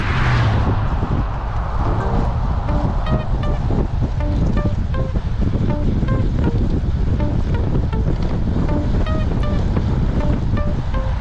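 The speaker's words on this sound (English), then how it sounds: "Listen to that wind." Strong wind roars over the microphone while cycling downhill toward Montgomery, Texas, a loud constant rush that buries everything else, with faint ticking from the bike underneath.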